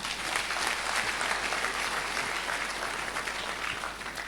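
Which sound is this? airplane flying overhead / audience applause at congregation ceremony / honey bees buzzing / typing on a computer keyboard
audience applause at congregation ceremony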